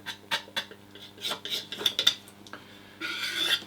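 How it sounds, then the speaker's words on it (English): Metal scraping and rubbing along the top lip of each jaw of a leather belt burnishing vice as excess is cleared off, in a series of short scratchy strokes, close and fairly quiet. "we're going to go over the top lip of each jaw, scrape off any excess"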